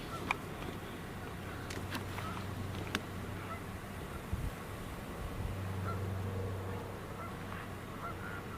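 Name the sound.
great blue heron calling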